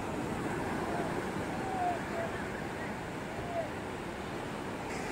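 Big ocean waves break on a Goa beach in a continuous, rumbling wash of surf, with wind buffeting the microphone throughout.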